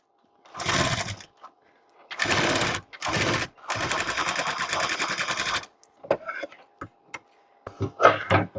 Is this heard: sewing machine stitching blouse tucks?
yes